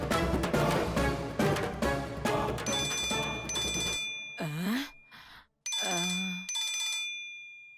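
A telephone rings in a Tamil TV serial scene: music plays first, then two bursts of steady electronic ringing, separated by short vocal sounds and a brief gap.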